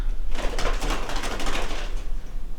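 A bird inside an empty building in an old New Mexico ghost town makes a close, busy burst of fluttering and rustling over a constant room hiss, with no talking.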